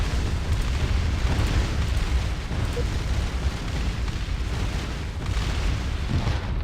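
Ships exploding in the Distant Worlds Universe space strategy game, a dense, continuous rumble of booming blasts that stays loud and steady throughout, with no clear gaps between explosions.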